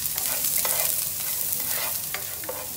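Onion sautés in hot oil with a loud, continuous close sizzle and repeated stirring scrapes in the pan, no talking.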